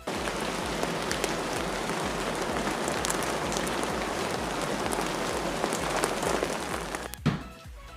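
Water sprayed hard in a bathroom to simulate heavy rain, a dense continuous hiss of droplets pattering on a surface, loud and close, stopping abruptly near the end.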